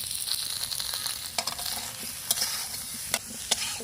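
Green chili and ginger paste with salt is being sautéed in a pan, giving a soft steady sizzle under repeated spatula scrapes and a few sharp clinks.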